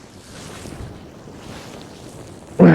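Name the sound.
wind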